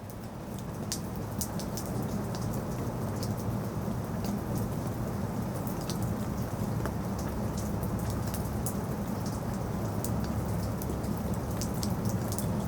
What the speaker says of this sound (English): When they close the door, that rain, now that becomes muffled.